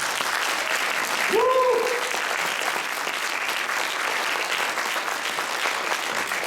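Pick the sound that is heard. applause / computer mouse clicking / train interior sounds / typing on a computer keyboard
applause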